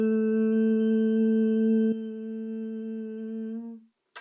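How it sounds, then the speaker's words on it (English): Humming bumblebee breath made with the mouth closed and resonating in the nose: one steady, low, buzzing hum held for about four seconds, close and alone, dipping slightly midway before fading out. "close your mouth and allow yourself to make that bumblebee breath, and you're going to feel it a lot in your nasal area"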